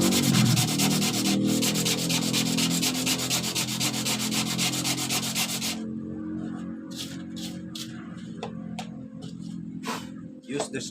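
Steady abrasive rubbing of sandpaper across a fiberglass epoxy surfboard, loud and continuous for about six seconds, then quieter scraping strokes with scattered clicks and brief bursts.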